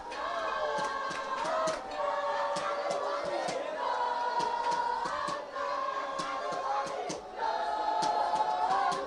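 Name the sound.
crowd roaring at a rugby match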